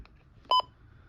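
Midland weather radio alarm clock sounding a brief EAS test beep, a short double electronic tone, clear and close against a quiet room.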